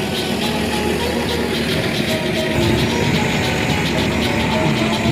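Tractor engine running at a sand extraction site at Mangla Dam, a steady loud mechanical drone and rattle that continues throughout without breaks.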